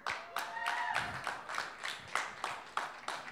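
A crowd at a Beat the Frog show claps for a contestant, a thin spattering of hands with sharp, irregular slaps over a few seconds. Faint whistles or cheers ride over the clapping, and no one speaks.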